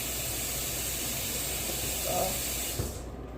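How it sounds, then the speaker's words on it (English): Tap water runs in a steady hiss over tomatoes being rinsed in a kitchen sink, loud and continuous before cutting off with a faint knock. "Sorry, I'm going to rinse these off."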